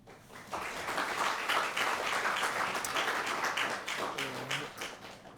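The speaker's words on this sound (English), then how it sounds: "a quick round of applause for the Two Sisters Catering Company" Audience applause at a Year 12 graduation ceremony in a hall, a dense round of clapping that rises quickly, holds, then tapers off as a voice begins near the end.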